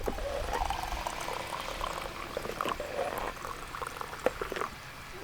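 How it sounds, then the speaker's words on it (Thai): Hot water pours steadily into a kettle in a kitchen, a soft, continuous gurgling stream with a few faint clinks, fairly quiet and close. "กดน้ำร้อนใส่ใน กาดิฟนะฮะนี่เป็นกาดิฟทั่วไปเลย"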